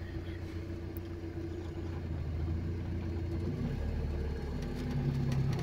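A car idles and rumbles at low revs during a driving lesson, the engine note rising slightly as the clutch is released and the throttle is eased on, a steady, moderate hum heard from inside with no talking.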